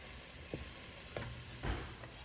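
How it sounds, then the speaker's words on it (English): Flour paste cooking down in a soup pot for chicken pot pie soup, a low steady sizzle with a few soft stirring knocks, close by. "We're gonna just let that cook down a little bit until it starts to smell like cooked flour."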